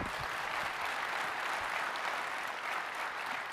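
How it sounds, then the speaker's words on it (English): Steady, dense applause from a large audience at a general session of the 3DEXPERIENCE World 2024 conference, even and sustained, with no talking over it. "Big round of applause for these gentlemen."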